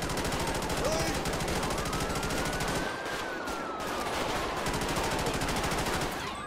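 Dense, rapid bursts of automatic gunfire crackle nonstop through a police shootout in the FiveM game, loud and continuous with brief lulls, while voices murmur faintly underneath.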